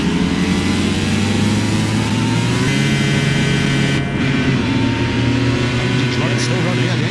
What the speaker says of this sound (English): Yeah, the engine is running.